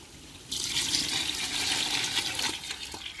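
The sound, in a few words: pouring water into mutton biryani pot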